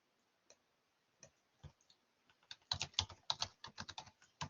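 Typing on a computer keyboard while writing an MS SQL query, starting with a few sparse, soft key clicks, then a quick, close run of louder keystrokes with no talk.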